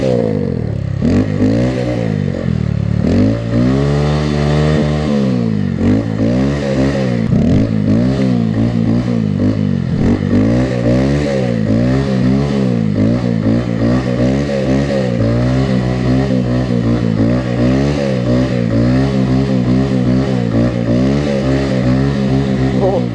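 A vehicle engine revs hard and steadily while drifting on a snowy road, its pitch rising and falling in sweeping waves through sustained acceleration, loud and close throughout.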